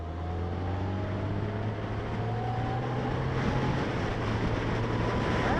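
A 2016 Yamaha FJR1300ES motorcycle in sport mode, its smooth engine droning steadily under heavy wind rush, with slight pitch shifts as it runs along.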